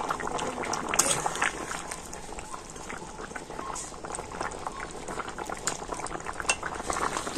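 A pumpkin and potato curry with fish roe boils steadily in a pot, a dense continuous bubbling with scattered clinks of a utensil against metal.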